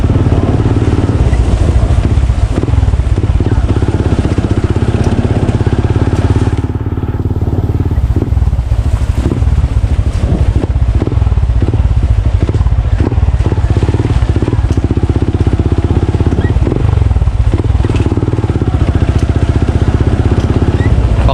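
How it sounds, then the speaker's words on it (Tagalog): A motorcycle engine drones loudly and continuously while riding, with wind rumble and steady road noise throughout. "Kung ilang minuto ang takbo natin sa motor."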